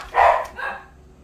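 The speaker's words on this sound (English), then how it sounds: "I have no clue what my dogs are barking at." A single dog bark, loud and close, followed by a shorter softer yip, alone with no talking.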